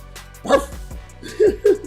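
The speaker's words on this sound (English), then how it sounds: "My dogs is barking at me" Dogs bark a few times in short, sharp bursts, loud and close, with brief pauses between the barks.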